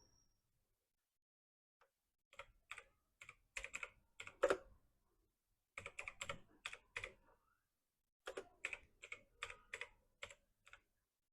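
Rapid typing on a computer keyboard while an Aadhaar number and a name are entered into an online MSME Udyam registration form, in three close, crisp bursts of keystrokes separated by short pauses in an otherwise silent room.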